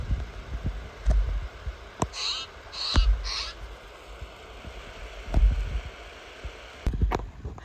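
Birds calling along a forest trail at Cape Scott, a few short raspy calls in quick bursts at moderate distance, over footsteps and thumping noise from walking.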